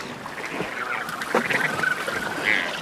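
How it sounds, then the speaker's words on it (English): Albatrosses, including wandering albatrosses, calling in a dense breeding colony, with honking, goose-like cries rising over a steady outdoor wash and overlapping from near and far. "there's mobs of the birds I've come to see, these glorious albatrosses"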